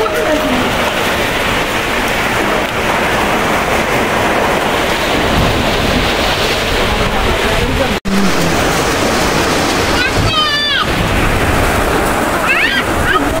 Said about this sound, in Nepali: ठुलो पानी पर्यो गाइज।